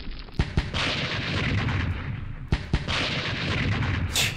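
Artillery and gunfire in a World War II strategy war game: two sharp, loud blasts near the start and another pair midway, over a constant dense rumble of distant battle noise.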